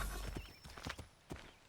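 Horse hooves clip-clop in Assassin's Creed III, a few uneven, close strikes over a quiet background, brief and fairly soft.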